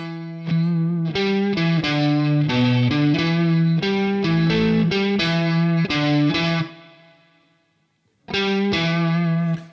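A distorted electric guitar plays a chugging rock riff with chords, loud and close, stopping briefly before starting again.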